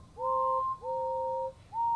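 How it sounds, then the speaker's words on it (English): Two-tone toy steam engine whistle toots, a long one, a second long one, then the start of a third, steady and clear over faint background hiss. "They whistled and tooted in excitement."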